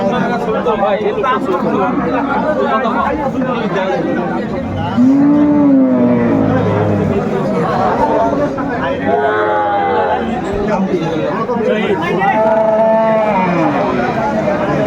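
Cows with calves moo several times at the Aftabganj cattle market, some calls near and drawn out, over constant crowd chatter and people talking close by.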